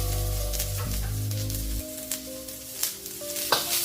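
Onion, garlic and ginger roasting in a wok being seasoned, a loud close sizzle with a low hum that drops away midway, leaving bright crackling and a few stirring scrapes.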